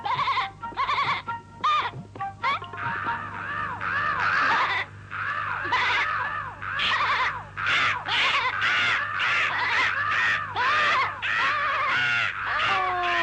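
Cartoon crows caw loudly in a rapid, overlapping chorus of harsh repeated calls, with a steady low hum underneath and a brief pause partway through.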